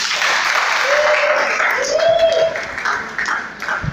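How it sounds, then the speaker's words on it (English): Audience at a community meet-up applauding in a room, a dense burst of clapping with a few cheering voices rising through it, fading slightly toward the end. "Please clap."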